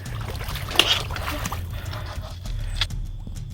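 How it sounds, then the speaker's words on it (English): Hikers ford a cold river in late season, with water sloshing and splashing around their legs close by, while a voice talks briefly over the wading. "This is the first river we've ever forded."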